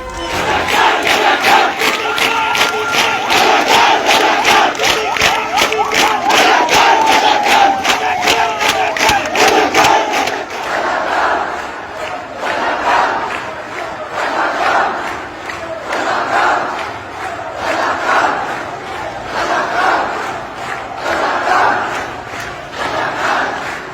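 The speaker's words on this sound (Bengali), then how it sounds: "নিজেকে রাজাকার ঘোষণা করে স্লোগান দিয়ে আন্দোলনকারী ছাত্ররা জড়ো হতে থাকেন রাজু ভাস্কর্যের সামনে" Protesting students chant slogans in unison at Raju Sculpture in Dhaka, a loud crowd repeating rhythmic call-and-response lines, dense at first and then settling into steady pulsing bursts.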